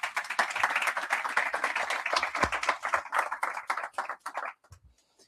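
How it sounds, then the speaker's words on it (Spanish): A small talk audience applauds a speaker, dense clapping that holds steady for several seconds before thinning into scattered claps and stopping near the end. "un fuerte aplauso para Víctor"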